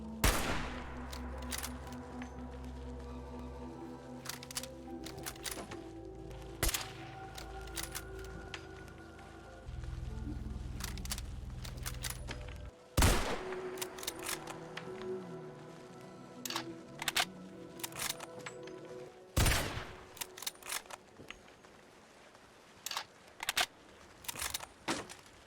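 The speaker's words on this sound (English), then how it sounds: "replace the vanilla hunting rifle sound with a more powerful one, reminiscent of the Remington 700" Modded hunting rifle in Fallout 4 with a Remington 700-like report, firing sharp, loud single shots spread irregularly over the stretch, mixed with clicky bolt and reload sounds and low game ambience.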